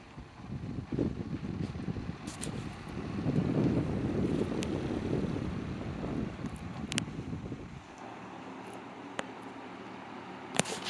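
A large electric fan runs with soft whooshing blade wind noise and a low rumbling whap for several seconds, then drops to a quieter steady hum with a few faint clicks.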